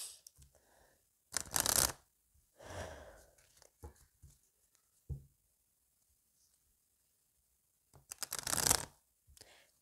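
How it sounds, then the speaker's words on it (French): Tarot cards being shuffled and drawn, with two loud riffling shuffle bursts and several softer slides and taps of cards in between, close and quiet otherwise. "On va aller tirer les 3 petites cartes du Madame Maboule."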